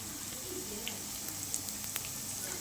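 Onion and curry leaves frying in a pan as the base for a mango and mutton curry give off a steady, faint sizzle with scattered soft pops and crackles, with no voices over it.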